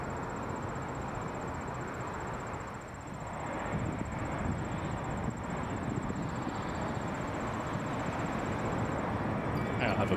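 A Lufthansa heavy airliner lands on runway 24 left at Toronto Pearson. Its engines give a continuous broad roar that grows slightly louder and stays steady, with a faint high whine above it.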